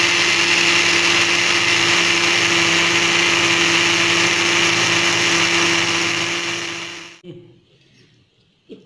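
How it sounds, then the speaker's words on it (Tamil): A mixer grinder blends milk and yogurt for eggless cake batter, running loud and steady with a constant whirring drone for about seven seconds, then switching off and winding down, leaving faint knocks. "இதை வந்து நல்லா மிக்சியில் நைஸாக அரைச்சிக்கிறோம்."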